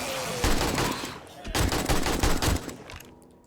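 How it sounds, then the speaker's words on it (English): A legendary AK rifle fires in the zombie survival game 7 Days to Die, rattling off rapid automatic bursts of loud, close gunshots separated by brief pauses. "Now we're gonna go with the legendary AK"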